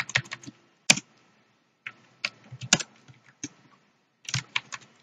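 Computer keyboard typing in short irregular bursts, with clustered key clicks and a few sharper louder strikes separated by brief pauses, close and fairly quiet.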